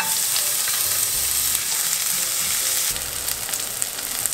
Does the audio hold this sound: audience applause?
no